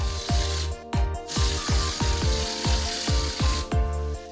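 A plaster machine sprays plaster onto a house wall, pumping with a steady mechanical thump and ratcheting rhythm about twice per second over continuous spray hiss, close and fairly loud.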